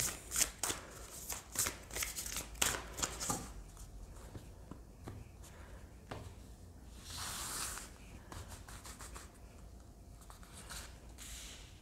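Tarot cards being shuffled by hand for a love reading, with quick riffling bursts and soft papery slides, close but quiet, no speech.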